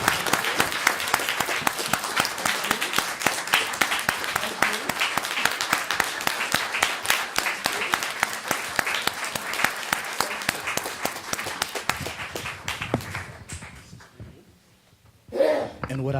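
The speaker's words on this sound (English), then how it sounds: "Please give this family a big round of applause" A city council meeting audience gives a family a round of applause, with sustained, rhythmic clapping from many hands that gradually fades, followed by a brief sound as talk resumes.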